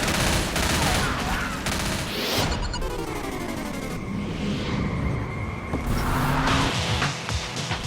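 Gunfire mowing down zombies in the video game Left 4 Dead comes as a loud, dense barrage of rapid shots mixed with chaotic game noise throughout.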